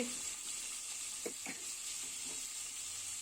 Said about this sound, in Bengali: এই ব্লেন্ডার করা মশলাটা অনেকটুকু দিয়েছি এখন আমি এটা নেড়ে দিব